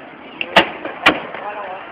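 Two sharp firework pops go off about half a second apart at a Filipino school class gathering, with steady background chatter continuing underneath and a faint crackle before the first bang.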